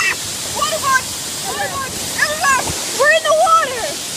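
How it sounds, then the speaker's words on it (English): A large waterfall on a town river roars as a constant broadband rush beneath close, excited talking from people standing in the water. "You see like there's a giant waterfall."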